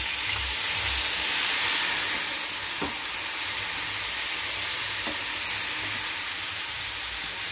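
Ground cumin, coriander, chilli and turmeric, mixed with water, drop into hot oil and fry with a loud, steady hiss and sizzle, broken by a few soft stirring knocks, and nobody speaks.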